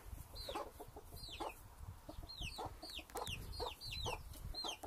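A flock of farm chickens clucks steadily at close range, with many overlapping short calls in a busy, irregular rhythm and a low rumble beneath, with no talking.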